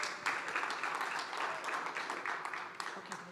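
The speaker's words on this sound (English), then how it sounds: "if everyone can give them a huge round of applause" An audience applauds participants of a 24-hour film race at a startup-week film screening; steady, fairly close clapping throughout, with some voices mixed in.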